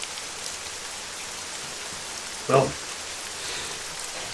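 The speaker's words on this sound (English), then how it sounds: "The rain is now sort of flowing down the stairs." Steady rain ambience for a tabletop role-playing game, rain flowing down stairs as an even hiss throughout, with one brief spoken word partway through.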